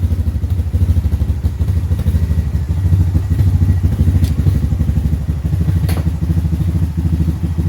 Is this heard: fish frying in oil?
no